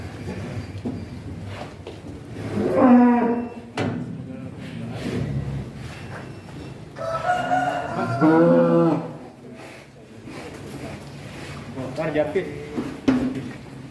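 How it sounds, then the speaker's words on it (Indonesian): Heavy cattle leaving a pen low and moo several times, with drawn-out calls rising over scuffing and background noise, while someone speaks between them. "Dan nanti masih ada beberapa lagi sapi yang akan keluar dari kandang sapi Bos Pam."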